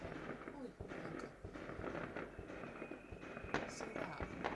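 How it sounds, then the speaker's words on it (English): Fireworks go off in the distance, faint scattered pops and crackles over a steady outdoor background hiss, with no loud nearby bangs. "The fireworks going off."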